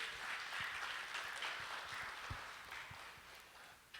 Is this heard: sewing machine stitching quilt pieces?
no